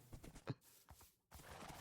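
Horse hooves clip-clop in the Minecraft video game: a handful of soft, irregular hoof knocks with short gaps between them, fairly quiet and with no talking over them.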